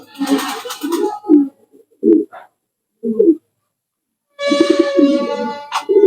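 A pigeon coos in low, throaty bursts, several short calls spaced by pauses, close and clear.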